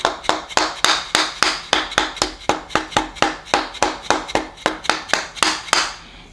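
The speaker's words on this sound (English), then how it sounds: "Now just a gentle tap to make sure the sprocket is on the crank" A timing sprocket is tapped onto the crankshaft of a 440 MOPAR 512 stroker engine with a steady series of about twenty sharp, evenly spaced metallic taps, close and fairly loud with no talking.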